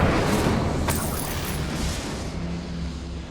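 Incendio fire spell cast in the Hogwarts Legacy video game, a loud burst of roaring flame that opens with a whooshing boom and a sharp crackle, then fades into a lower rumbling fire.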